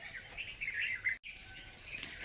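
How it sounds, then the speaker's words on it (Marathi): Faint morning birdsong outdoors on a farm, soft chirps blending into a constant high insect-like drone, distant and quiet, without any voices. "पक्ष्यांचा किलबिलाट"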